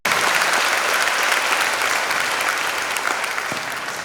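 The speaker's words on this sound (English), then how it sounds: "extending a heartfelt and a thunderous welcome to our chief guest with a warm round of applause" Students and faculty give a warm round of applause to the chief guest at a college birthday and Founder's Day celebration, a broad, sustained roar of clapping from a large crowd that fades slightly toward the end.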